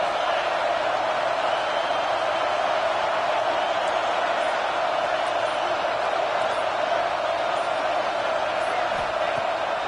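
Stadium crowd roaring steadily in NCAA Football 26, a dense, loud home crowd wash sustained throughout with no break, covering the whole stretch without audible commentary standing out.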